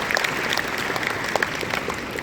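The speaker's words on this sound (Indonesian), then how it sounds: "Tepuk tangan dulu dong buat Telkomsel." A conference hall audience at a national youth conference gives a short burst of applause for Telkomsel, dense clapping at moderate distance that holds steady for a couple of seconds with no talk.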